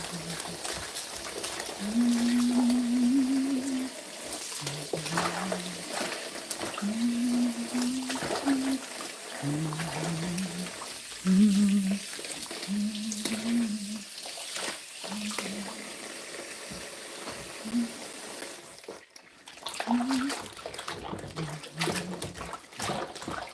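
Tap water runs and splashes while juicer parts are rinsed and scrubbed with a sponge and soap, a continuous nearby trickle with a person singing or humming over it and a brief pause near the end.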